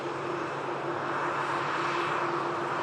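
An airliner, flight 273, taxis in at the airport with a steady distant jet engine hum and drone, even in loudness across the few seconds, with no talking over it.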